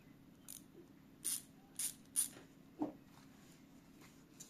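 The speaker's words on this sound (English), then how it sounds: "The tool I store closest to the opening is the Leatherman ratchet driver." A Leatherman ratchet driver clicks close by in a quiet room, a few separate sharp ratcheting bursts spaced about half a second apart, then one softer, lower click.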